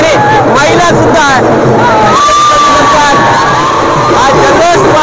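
A loud festival crowd cheers and shouts at the Govinda celebration in Shrivardhan, with children's shouts and steady babble filling the space, whoops rising over a continuous roar.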